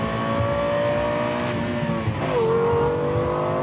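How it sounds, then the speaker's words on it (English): A supercar engine screaming at full throttle, a loud close howl whose pitch holds high, dips sharply near the middle and climbs again, alone with no talk. "the sound of an engine screaming at full throttle"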